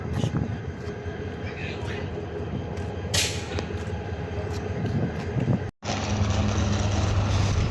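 At Kishoreganj railway station, the Kishoreganj Express gives off a steady rumble and clatter with a brief sharp hiss in the middle. A voice talks over it.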